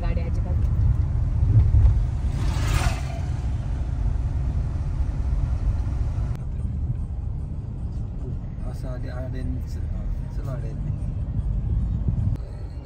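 A car driving on a village road hums with a steady low engine rumble and road noise that stays even throughout, close and continuous, while people talk over it.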